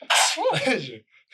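A single loud, close human sneeze bursts out with a sharp intake and explosive release, followed by a brief pause and a small trailing sound.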